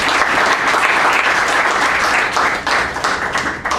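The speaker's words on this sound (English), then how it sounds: "Give him a big round of applause." Audience applause at a Toastmasters meeting, a steady dense patter of many hands clapping that holds loud for several seconds and eases slightly toward the end.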